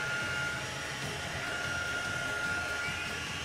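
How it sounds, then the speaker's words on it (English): Continuous steady whirring of a hair-dryer-like blower, an even motor hum that holds constant at moderate level throughout. "Sounds like a hairdryer."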